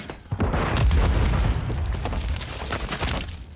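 A heavy grenade blast booms in the Call of Duty 3 battlefield, one deep close explosion that rolls on into a rumbling, crackling tail with scattered distant shots behind it.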